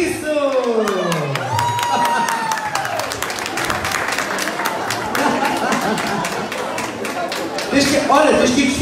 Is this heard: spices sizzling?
no